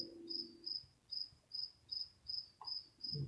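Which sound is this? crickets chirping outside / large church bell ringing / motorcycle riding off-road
crickets chirping outside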